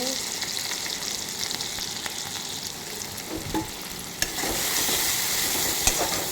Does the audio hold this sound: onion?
yes